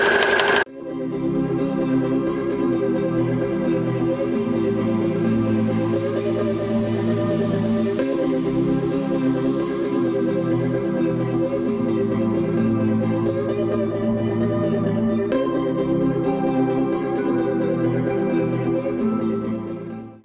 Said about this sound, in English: I'm just going to sew along the edge of the fabric using a 1/4 inch seam allowance, and I'm just going to do the perimeter of the blanket